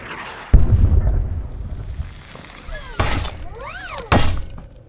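Movie explosions as Iron Man blasts a tank: a sudden heavy boom, then two more loud bursts a few seconds apart with crackling debris and whooshing sweeps, over a rumbling background.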